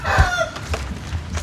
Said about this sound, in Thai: มีไก่บ่นี่